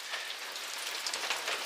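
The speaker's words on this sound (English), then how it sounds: "it's almost May and there's cold rain" Cold spring rain falls steadily on a mountain trail, a dense continuous hiss of drops close by, with no voices.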